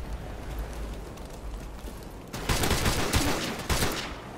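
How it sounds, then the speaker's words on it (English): Bursts of video game gunfire in a battle, a dense rattle of shots that kicks in partway through after a quieter stretch of background noise, with several louder volleys toward the end. "Again, shots go nowhere."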